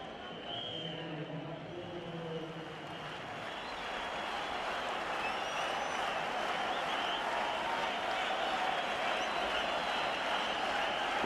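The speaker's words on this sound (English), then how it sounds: "Crowd on their feet." Cricket crowd at a 2003 World Cup match between Australia and Sri Lanka applauding and cheering, a dense, steady roar of clapping that swells and holds loud throughout.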